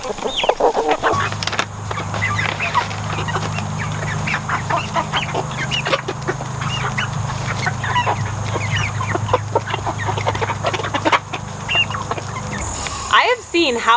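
A flock of chickens clucks and murmurs continuously nearby, some calls rising above a steady low hum, with someone speaking over it.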